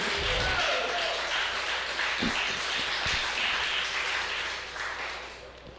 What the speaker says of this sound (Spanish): ¿cuántos pueden brindarle un fuerte aplauso al Señor?